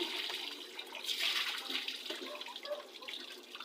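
Water is poured over a man bathing at a hand pump in the countryside, a steady close splashing rush that surges and then continues without talk.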